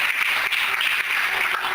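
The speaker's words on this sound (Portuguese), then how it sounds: "Aplauda ao Senhor bem forte." A church congregation claps hard and continuously, a dense, loud wall of applause filling the room without a break.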